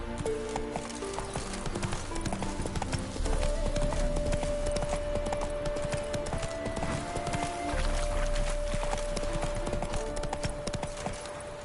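Roach, a horse in The Witcher video game, gallops with a rapid, steady clip-clop of hooves over a backdrop of game music, loud and continuous throughout.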